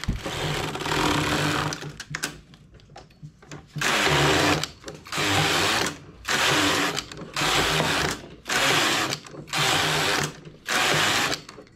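A knitting machine works through eight rows: the carriage sweeps back and forth in repeated whirring, clattering passes of about a second each, separated by short pauses, loud and close.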